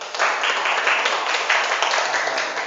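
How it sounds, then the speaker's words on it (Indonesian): Classroom applause for a student group after their presentation: steady, dense clapping from a roomful of pupils, close and even throughout with no pauses. "kita beri aplaus kepada kelompok 1"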